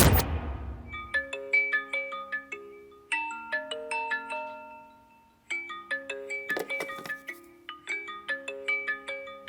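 A mobile phone ringtone from an incoming call in a South Indian thriller, a bright chiming melody of repeated electronic notes that plays loud and alone for several seconds, pausing briefly midway before resuming.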